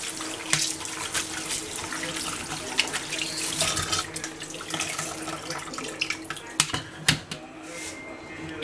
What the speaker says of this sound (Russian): Когда мы их обваляли в муке, мы их промываем в воде.